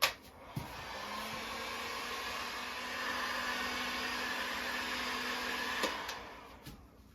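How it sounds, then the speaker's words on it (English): A Porter-Cable heat gun blows a steady, loud broadband whoosh for several seconds, drying quick-set drywall compound on a patched hole; a few clicks and a switch-off sound near the end. "I'm going to pull out the porta-cable heat gun, put some heat to it to help speed it up a little bit"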